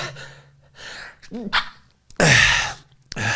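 A single sharp sneeze bursts out loud and close after a soft gasping intake and scattered breathy sounds, ending with a brief click.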